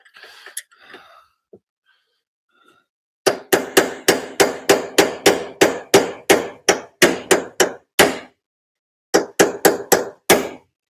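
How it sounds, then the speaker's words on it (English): Sharp metal hammer blows drive a punch against a spacer during a Miata rollbar install, coming as rapid close bursts after some faint breathing and noises. "I need someone to hold that while I punch the spacer back."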